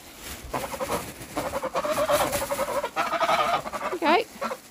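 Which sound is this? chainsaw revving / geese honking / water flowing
geese honking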